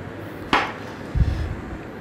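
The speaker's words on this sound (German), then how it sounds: "Zum Anbraten natürlich Pfanne." A frying pan is handled in a kitchen while lamb loin is prepared for searing: one sharp metallic clank, then a duller knock and scrape about half a second later, both fairly close and quiet.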